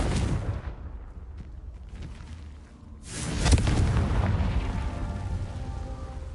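Confringo spell explosion in the video game Hogwarts Legacy: a loud, broad blast erupts midway and rumbles on, following a noisy burst at the start and a brief lull.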